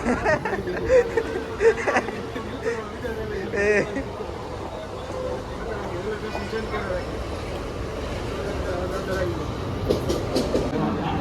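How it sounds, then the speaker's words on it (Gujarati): A train rumbles and clatters along the rails, pulling into a station steadily while people talk close by over the continuous rolling noise. "આવી ગઈ ભાઈ ટ્રેન"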